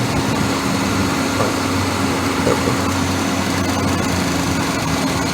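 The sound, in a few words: car engine idling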